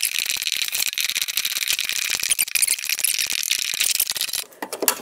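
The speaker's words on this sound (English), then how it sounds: "Now, get our little snippers. And we will, this edge is good. I'm going to snip over here." Snippers clip wire for a garden riddle compost sifter, giving a close, continuous bright metallic rattle and clicking that drops off near the end, with no voices.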